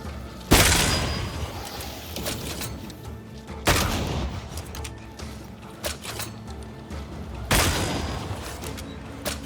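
Gunfire from a corpse enemy in Banishers: Ghosts of New Eden, three loud booming shots spaced a few seconds apart, each with a sharp onset and a long decaying tail over a dense, rumbling game soundscape.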